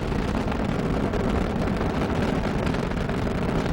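The Space Shuttle Discovery on the STS-121 launch climbs with its three liquid fuel main engines, a continuous loud, broad roar and crackle that holds steady throughout with no talk over it.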